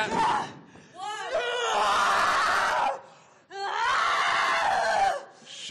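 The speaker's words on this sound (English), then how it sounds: "screaming, I think, at herself." A female wrestler screams on the mat during a wrestling academy showcase match, two long, loud, strained vocal bursts separated by a short pause, with a lively arena crowd audible behind.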